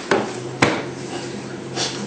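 Dishes being knocked together in a home kitchen while making a chocolate cake, two sharp clattering hits close by followed by quieter rattling and handling noise.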